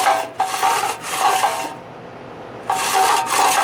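The recoil starter of an old engine is pulled repeatedly, loud rasping whirs of rope and spring in rhythmic strokes, with a quieter pause in the middle before another pull, close up.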